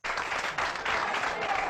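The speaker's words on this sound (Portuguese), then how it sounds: "No virtual a gente coloca também os aplausos virtuais" Virtual applause sound effect played during an online webinar, a dense burst of many clapping hands starting abruptly and continuing steadily at moderate level.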